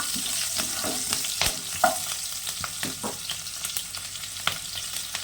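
Nigella seeds and green chillies sizzle in hot oil in a home kitchen, a steady close frying hiss broken by occasional stirring clicks and pops, with no voices.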